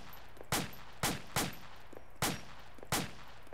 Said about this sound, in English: the reason it has these 30 round Stanags is basically so you can dump rounds